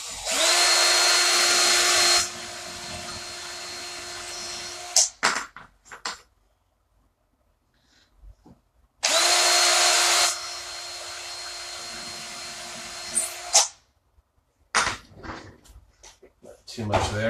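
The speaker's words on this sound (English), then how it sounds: "we're just going to drill a little bit further down" A power drill whirs loudly in two bursts of a few seconds each, separated by quiet, with clunks and handling noises between.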